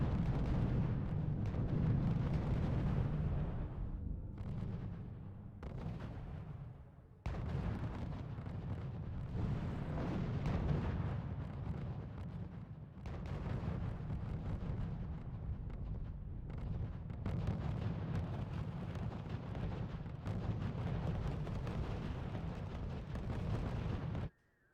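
Heavy artillery counter-battery fire rolls through a RUSE strategy battle on a nuclear winter map, with repeated deep booming blasts and rumbling explosions that overlap into a continuous, loud barrage for the whole stretch, cutting off abruptly at the end.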